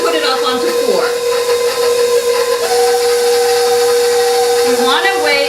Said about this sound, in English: Now start your mixer out on low.